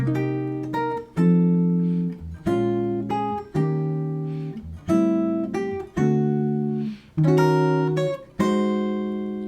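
Clean jazz guitar chords strummed one after another in a steady sequence, each ringing briefly before the next voicing, clear and close with no talking.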